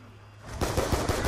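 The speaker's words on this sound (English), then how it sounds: "light them up with your little pistol." Rapid pistol gunfire in Call of Duty's Mob of the Dead zombies map, a quick burst of close, sharp shots after a brief quiet start.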